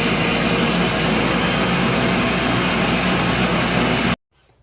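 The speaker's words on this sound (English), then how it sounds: "We got that all blended up." A blender whirs loudly and steadily through a fermented hot sauce mixture, a dense continuous roar up close that cuts off abruptly into near silence.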